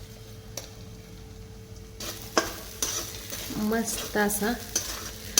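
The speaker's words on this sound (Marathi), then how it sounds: "लाल भडक शाबू हलवून घ्यायचा जोपर्यंत साबुदाणा मऊसर होत नाही" Sabudana tossed with red chili powder and crushed peanuts is stirred in a pan, giving close scraping strokes over a soft sizzle, with a few words spoken briefly near the end.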